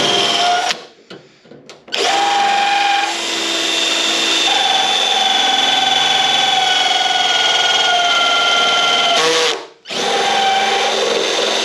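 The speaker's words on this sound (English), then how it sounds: "So let's get this spot weld off and then keep moving forward." Power tool drilling out a spot weld on the door of a Karmann Ghia under repair, a loud, steady high-pitched whine running for several seconds, with a brief stop near the start and another short cut-out near the end.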